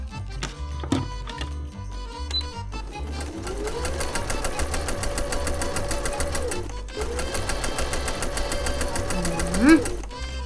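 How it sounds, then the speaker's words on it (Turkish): A sewing machine stitches a toy's apron, with a collar and tie, running in two long, steady bursts separated by a brief pause, loud and close amid soft tapping and handling. "Şimdi dikelim."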